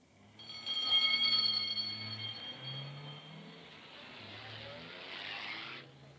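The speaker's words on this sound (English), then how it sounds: "The ambulance drove off to the local hospital." An ambulance in a 1952 radio crime drama pulls away, its engine revving up loudly with a whining tone and then settling into a steady drone as it drives off, with no voices.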